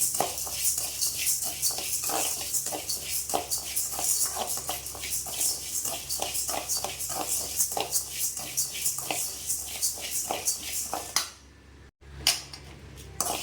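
Urad dal dry-roasting in a pan on low heat, stirred steadily with a metal spoon that scrapes and clinks in a brisk, continuous rhythm, close and fairly loud, briefly pausing near the end.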